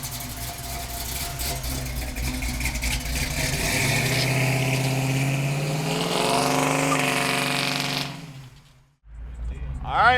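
A 1970 Ford Maverick engine revs loudly and climbs in pitch, holds a strong roar, then cuts off abruptly before firing back up.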